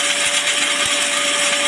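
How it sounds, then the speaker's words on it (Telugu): A mixer grinder whirs loudly and steadily as it coarsely grinds green chillies, ginger and garlic, a close continuous motor whine that stops abruptly at the end. "మిక్సీ ఆడేసుకుందాము"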